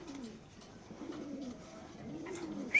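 Racer pigeons coo softly and repeatedly in low, rolling phrases, fairly close but quiet, with a brief sharp sound at the very end and no talk.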